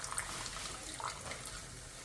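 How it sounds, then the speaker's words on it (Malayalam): Boiled water poured into a beetroot and dates pickle, a soft steady trickle of liquid heard up close and quietly, with no talk over it. "ഇതിനകത്ത് ചാറ് കുറവായതുകൊണ്ട് ഞാൻ കുറച്ച് തിളപ്പിച്ചരച്ച വെള്ളം കൂടെ ഒഴിക്കുവാണ്."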